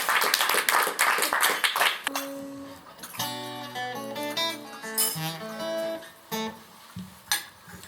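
Audience at a poetry café evening in Amstelveen gives a short burst of applause before guitar music begins; the clapping is dense and close, then fades into plucked guitar notes.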